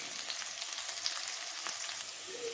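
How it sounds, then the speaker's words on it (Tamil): Whole spices, Kashmiri chillies and garlic sautéing in hot oil, a steady, even sizzling hiss throughout with no stirring or talk breaking through. "பூண்டு எல்லாத்தையும் போட்டு நல்லா வதக்கணும்."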